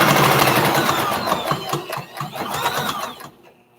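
A sewing machine back stitches a boxy bag seam, its motor whirring loudly and close in a continuous run that slows and stops near the end.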